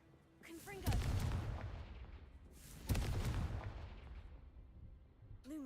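Two loud Confringo explosion spells burst in a Hogwarts video game, each a heavy booming blast that rolls off slowly, with a brief whooshing cast sound before each and a third starting at the end.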